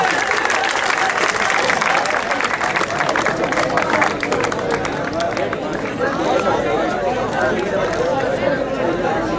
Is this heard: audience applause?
yes